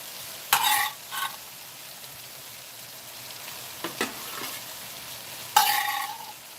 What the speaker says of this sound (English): Chuck these right in the pan.